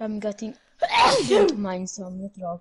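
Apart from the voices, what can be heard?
sneeze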